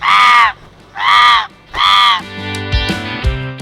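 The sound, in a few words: young man imitating crow cawing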